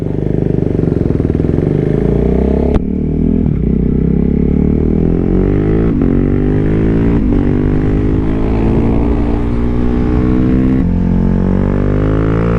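A modified 2022 KTM RC 390 single-cylinder sport bike ridden hard on a race track, its engine note loud and close, revving up through the gears with sharp breaks at each shift across a sustained run.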